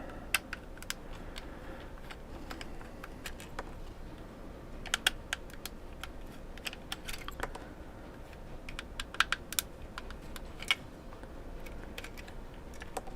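Small screws being unscrewed from a Nintendo Switch Pro Controller shell, heard as faint, close, irregular ticking clicks of a tiny screwdriver over quiet background.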